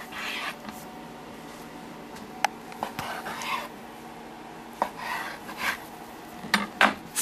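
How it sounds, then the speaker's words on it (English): A knife slicing through a log of homemade seitan on a cutting board, giving a few soft, scattered cuts and board taps over a quiet kitchen background. "Cut it into quarters."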